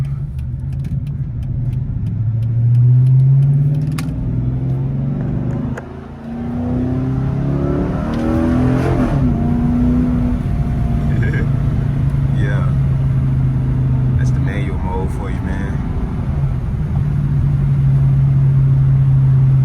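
A Dodge Charger R/T engine revs and accelerates in manual mode during a city drive, a steady loud drone with rising pitch sweeps as gears climb, heard from inside the car with talk over it.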